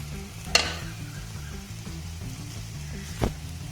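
Crushed spiced chicken is stirred into onions frying in a pan, giving a steady low sizzle with two sharp scrapes of the spoon against the pan, close by and without speech.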